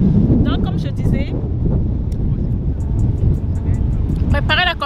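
Strong outdoor wind buffets the microphone with a constant low rumble and rush, loud and close, while someone talks over it.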